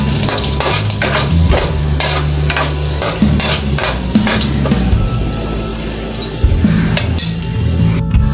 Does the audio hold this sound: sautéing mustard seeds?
yes